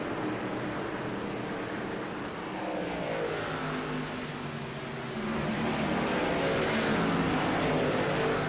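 Racing trucks in a series race thunder past at Watkins Glen heading into turn one, a continuous loud engine roar that swells and fades as they go by, with no voices.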